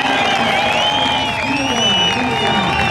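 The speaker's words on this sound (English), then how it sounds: "The crowd going absolutely crazy, seeing the set from Zeke" Crowd at a surf contest, the 2017 MEO Rip Curl Pro Portugal, cheering steadily and loudly throughout, with a commentator talking over the roar.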